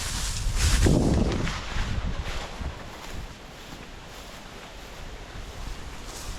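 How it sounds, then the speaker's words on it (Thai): Strong wind blows outdoors beside a canal lined with bamboo, a steady broadband rush and buffeting against the microphone that swells loudest early on and then settles into a continuous roar. "ลมกระแรง แรง"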